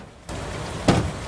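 Rain falling on a wartime Pacific island in a film scene, a steady broadband hiss of downpour that swells in partway through, with a brief louder burst like a gust or distant rumble.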